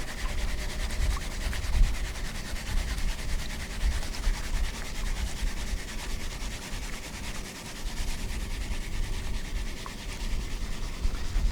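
A gold claw drywasher tray loaded with dirt and overburden is vigorously shaken, giving a steady gritty rasping and rubbing with occasional knocks, moderately quiet and continuous with no talking.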